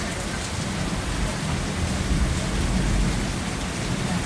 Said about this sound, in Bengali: ভগবান জানে ঠিক নিয়ে এসে এখানে বৃষ্টিতে মনে হচ্ছে মনে মনে করেছে কি জল দিতে হবে বৃষ্টি পড়ছে